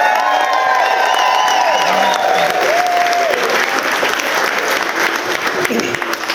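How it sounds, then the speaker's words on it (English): Wedding guests break into loud, sustained applause and cheering for the junior bridesmaids, a dense wash of clapping with whoops and shouts rising above it. "Ellen and Mary, massive cheer for them."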